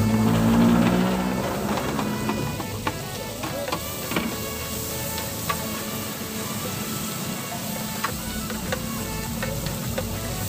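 Garlic and onion sizzle in a hot pan, a dense crackling hiss with scattered pops and sharp clicks of stirring, loudest at the start and then settling into a steady fry.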